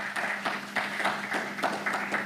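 An audience at a national dialogue on indoor air quality in St. Kitts and Nevis claps steadily, a dense patter of many hands at moderate distance, without voices.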